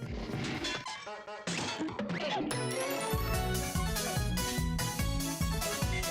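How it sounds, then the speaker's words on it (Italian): Soundtrack music from the Chibi-Robo video game, a loud, dense and odd mix of synth tones and percussive clanks that changes abruptly partway through, playing alone. "La colonna sonora non so nemmeno come descrivervela."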